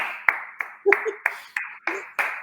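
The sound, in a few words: people clapping for an imagined studio audience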